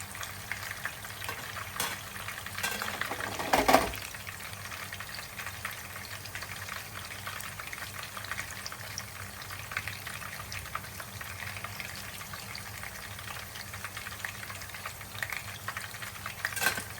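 Chicken malai koftas fry in a pan with a quiet, continuous crackling sizzle, one brief louder clatter near the start, no talk.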